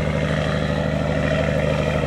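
A fishing boat off Ninh Thuận, Vietnam, runs its engine in a continuous, close, droning hum at an even pitch, with no other sounds or voices.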